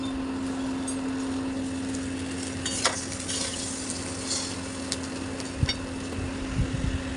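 Small pieces of red potato fry in a pan with a steady, moderate sizzle, broken by occasional clinks and scrapes of a stirring utensil, while a constant low electrical hum runs underneath.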